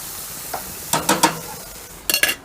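Fajita vegetables get stirred in a hot pan beside beef skirt steak, a faint sizzle punctuated by a few sharp spatula scrapes and knocks in two short bursts, close by with no voices.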